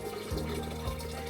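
Kombucha starter tea with a SCOBY is poured into a container, a brief wet splashing and trickle heard up close.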